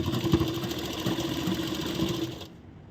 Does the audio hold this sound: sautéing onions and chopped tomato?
no